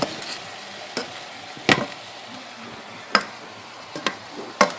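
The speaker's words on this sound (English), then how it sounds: "I'm going to stir that real quick." Nacho cheese dip is stirred in a pot, a soft bubbling hiss broken by several sharp scraping knocks of the spoon against the pot at irregular intervals, close and with no talk.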